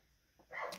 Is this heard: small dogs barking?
yes